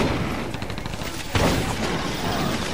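Gunfire from the M5A2 Bullseye rifle in the PS3 shooter Resistance: Fall of Man, a rapid rattling burst of sci-fi shots with a heavier blast partway through, loud and close over game ambience.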